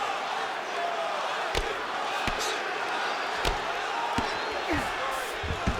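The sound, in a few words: crowd cheering in EA Sports UFC 5 video game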